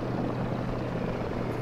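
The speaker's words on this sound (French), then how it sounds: "Hélico." A military helicopter in a war video game set in the Middle East with Marines, a dense, steady rotor and engine roar that stays loud and close throughout.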